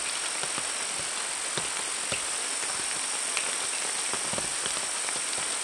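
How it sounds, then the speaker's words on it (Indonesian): Steady rain pattering in a Kalimantan forest during a stormy solo camping night, a constant dense hiss with scattered distinct drops and faint insect chirping. "Hujan."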